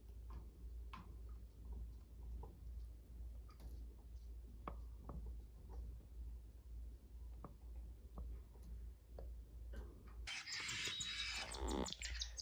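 Cockatiel chicks about a week old calling while being fed by an adult bird, faint high chirps and ticking sounds, with a louder burst of squealing begging near the end.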